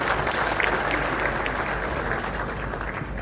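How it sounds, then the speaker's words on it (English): A conference crowd at an investment event in Murang'a claps for the main sponsor, Equity Bank. The applause is thick and continuous, with no break from start to finish. "can you clap for Equity Bank?"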